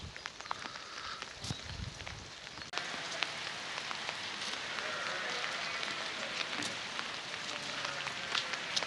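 Rain falls steadily in a village countryside in November, a broad constant hiss with scattered drop patters that grows a bit louder after a few seconds, with a faint voice briefly in the background.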